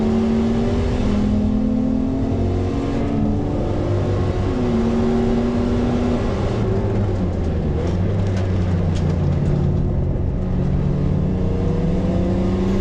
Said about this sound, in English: You can hear the misfire from Rachel's BMW here